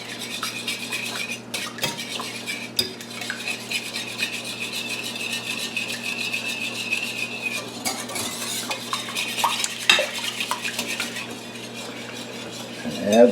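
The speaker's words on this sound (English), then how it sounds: "whisk this together." A whisk stirs and scrapes egg-based cake batter in a bowl for an apple skillet cake, producing steady, rhythmic rubbing and clinking strokes against the bowl, close and fairly quiet with no talking.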